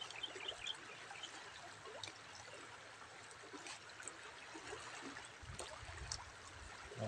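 A strong river current flows where someone is fishing, a faint, steady rushing and trickling of water with no voices.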